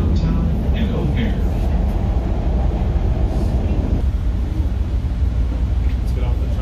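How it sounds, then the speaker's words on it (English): Chicago Blue Line subway train riding toward downtown and O'Hare, heard from inside the car as a loud, steady low rumble and rail roar that runs the whole time, with faint voices mixed in. "This is a Blue Line train to downtown and O'Hare."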